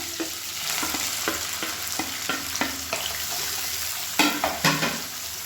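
Onions frying in a pan with curry leaves and green chilies make a steady sizzle, punctuated by a regular series of spatula scrapes against the pan, with two stronger strokes near the end.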